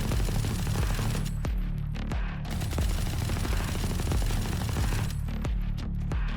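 Ares light machine gun firing in Valorant: loud, sustained automatic fire with a rapid, steady cadence, broken by a few brief gaps before the shooting resumes.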